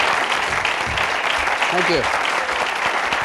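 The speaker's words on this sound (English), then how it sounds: "Give him a big round of applause." A studio audience on an afternoon talk show applauds a hypnotist guest as he comes on: steady, dense clapping runs the whole time, with a host speaking briefly over it.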